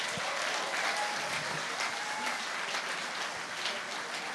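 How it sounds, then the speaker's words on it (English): Audience applause at the Pensado Awards as an artist is introduced, a broad, even roar of many clapping hands heard from a distance, sustained at a steady level throughout. "Give a round of applause for Major"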